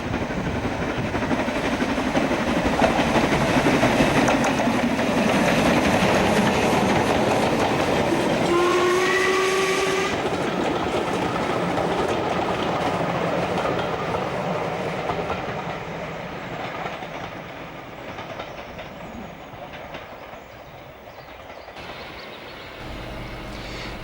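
Steam locomotives 5690 Leander and 71000 Duke of Gloucester running on the East Lancashire Railway at Bury, a loud, steady rumbling chuff with a rising whistle midway, slowly fading as the train passes.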